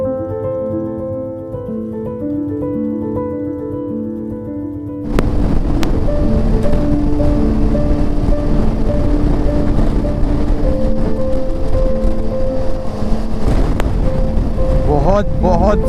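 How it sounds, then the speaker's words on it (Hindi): Strong crosswind buffeting a motorcycle rider on a highway, a loud, steady roar that starts abruptly partway through and then continues without a break. "बहुत ज़्यादा तेज़ क्रॉस विंड आ रही है।"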